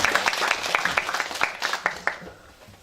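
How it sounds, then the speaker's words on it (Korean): An audience at a humanities camp lecture claps to welcome a poet to the stage, a fairly dense round of applause with distinct sharp claps standing out, starting loud and then tapering off near the end. "큰 박수로 맞이해 주시기 바랍니다."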